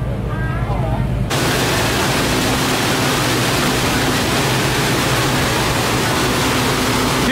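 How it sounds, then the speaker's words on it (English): Two paddle wheels of the Pearl of the Lake river paddleboat churning water: after a brief quiet moment, a loud, steady, broad rushing roar starts suddenly and continues without a break. "Here are the two wheels that are powering us through the water."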